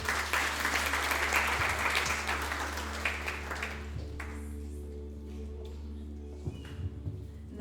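A church congregation at a Sunday service claps together, a lively burst of applause that fades after a few seconds, leaving a low electrical hum and scattered light taps.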